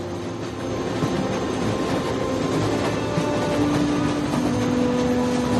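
Moving train in a tense drama scene, a continuous heavy rumble and roar with faint tonal whines rising in the middle, steady and close without speech.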